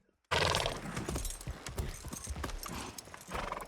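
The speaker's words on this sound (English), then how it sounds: "Oh, pretty horse." Horse hooves clip-clop in a Game of Thrones scene, a busy run of sharp, close hoofbeats that starts abruptly after a brief silence and continues loudly to the end.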